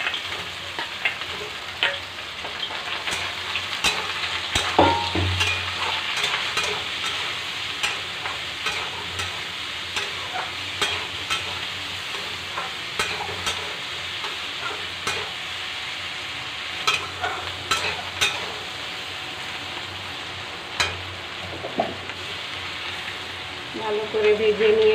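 Boiled kakrol (spiny gourd) frying with fried potatoes in oil, a steady close sizzle broken by repeated scraping stirs of a spatula for the whole stretch, with no talk.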